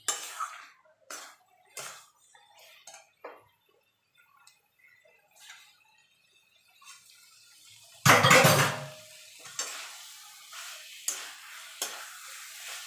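Banana flower curry (mochar ghonto) is stirred in a pan. Sparse scrapes and clinks of a spoon against metal come first, then a louder burst of sizzling mixing, followed by intermittent stirring.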